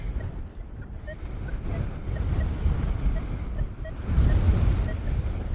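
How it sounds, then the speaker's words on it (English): Gusty wind buffeting the microphone, a constant low rumble that swells and eases, loudest near the end, with no clear voices. "It's so windy I can almost not hear my headphones even."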